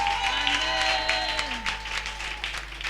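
Church congregation applauding and cheering during a French-language service, a sustained wash of clapping with crowd voices under a steady tone, moderately loud for about three seconds.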